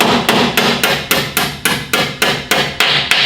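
Metal locking pins are driven into a rotator with a hammer: about a dozen sharp, evenly spaced strikes ring out close and loud, each with a short metallic decay, and no voices are heard.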